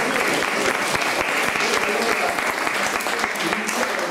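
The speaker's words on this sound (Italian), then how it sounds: "a cui va un applauso sicuramente" An audience of Italian linguistics professors and students applauds at a cultural institute event in Oslo, dense continuous clapping with scattered crisp individual claps and some talk underneath.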